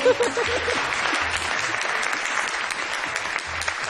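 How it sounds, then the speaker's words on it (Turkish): A crowd claps continuously in dense, steady applause, loud and close, with a few voices faintly underneath. "Alkışlarla size alıyorum."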